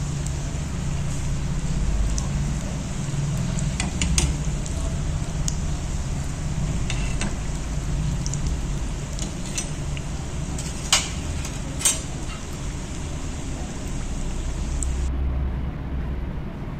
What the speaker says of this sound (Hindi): आपको इस तरीके से पलट पलट कर इसको फ्राई करते रहना है